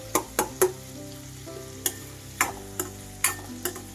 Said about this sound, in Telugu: ఉల్లిపాయ పచ్చిమిర్చిని వేసుకోవాలి ఉల్లిపాయలు మరీ దోరగా ఫ్రై అవ్వాల్సిన అవసరం లేదండి